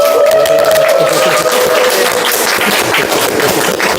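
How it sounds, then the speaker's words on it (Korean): An audience applauds an interpreter at a live event in Korea. Loud, dense clapping is sustained throughout, with a faint voice or tone running underneath. "네, 박수 드립니다."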